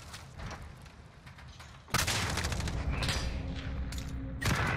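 R9-0 shotgun blasts in a Modern Warfare search-and-destroy match: a loud, sudden boom, then sustained rumbling action and a second sharp report near the end.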